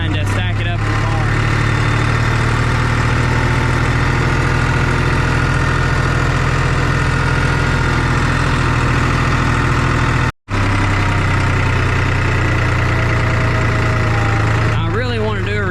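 A heavy diesel tractor engine idles loudly and steadily close by, a constant low rumble with a momentary cut partway through.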